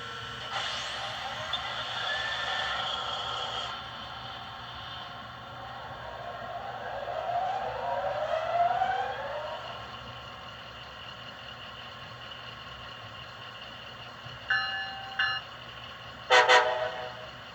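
Bachmann ALC-42 Charger model locomotive with TCS WOW Sound gives two short horn toots near the end, following a stretch of rolling, hissing running noise at moderate level, with no one talking.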